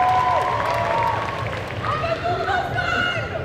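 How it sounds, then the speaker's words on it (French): An audience at the Made in Asia 2023 group cosplay contest keeps up a steady wash of clapping for the prop makers, with a voice talking over the applause. "On peut applaudir en effet nos amis les accessoiristes."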